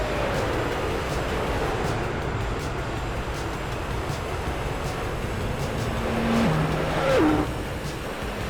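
Race cars roar past a Camaro on a speedway in Gran Turismo 4, a steady engine drone with a brief rising whine of a car passing near the end.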